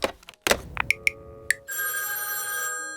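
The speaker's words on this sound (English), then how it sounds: "Let's call him up on the Orca phone" A telephone rings while a call is placed on a novelty orca-shaped phone: a few sharp clicks and short electronic chirps, then a sustained loud ringing tone.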